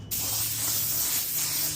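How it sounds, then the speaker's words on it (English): An adjustable-width paint spray gun sprays in one continuous, close, loud hiss after a sudden start, with no talking. "this is a new spray gun. I really like this one because you can adjust the width of the spray"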